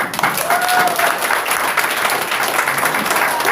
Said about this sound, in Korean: 훌륭한 박수 한번 다시 부탁드리겠습니다